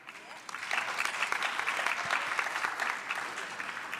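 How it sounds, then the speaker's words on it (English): Audience applause at a 2014 political conference gathering, a dense burst of many hands clapping that swells in after a moment and holds steady and loud to the end, with no talk over it. "I think you actually got more claps there"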